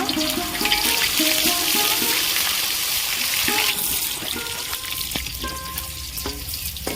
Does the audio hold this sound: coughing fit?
no